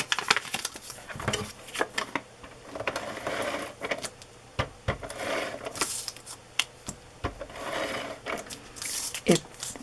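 Adhesive tape being handled and pressed down while working on a teddy bear craft journal, with a run of short crinkly clicks and rips, close and moderately loud, with no talking.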